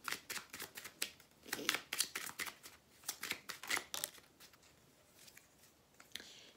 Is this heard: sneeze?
no